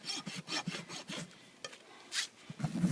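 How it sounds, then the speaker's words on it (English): A farrier's rasp files a horse's hoof wall in steady back-and-forth strokes, a close, dry rhythmic scraping with a few irregular strokes near the end. "keeping my rasp perpendicular just to shape the foot"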